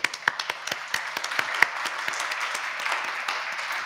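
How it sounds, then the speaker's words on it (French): An audience at a heritage technology conference applauds the team behind a digital model of the lace craft of Le Puy-en-Velay, giving a few sharp early claps that blend into dense, steady clapping from a moderate distance. "Je pense qu'on peut applaudir cette équipe."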